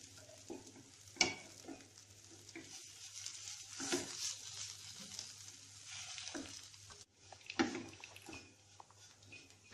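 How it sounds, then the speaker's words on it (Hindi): Gram flour (besan) frying with mixed vegetables in a pan, a soft steady sizzle with a few sharper scraping stirs, heard close and at low volume. "बेसन को हमने थोड़ा फ्राई कर लिया है इन चीज़ों के साथ"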